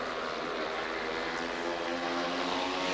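Speedway motorcycles race around a track with a dense, continuous engine roar at steady volume, loud and sustained without breaks for the full three seconds.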